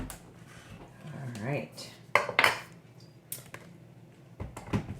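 A metal pot is set back down on a stovetop with a couple of clanks and rattles, close and distinct. A brief spoken word comes just before the clatter.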